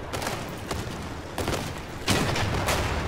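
Cannon fire in the vehicle combat game Crossout, Mammoth cannons on a tracked tank: several heavy blasts thump out at irregular intervals, the loudest near the end, over a dense rumbling battle din, with no talking.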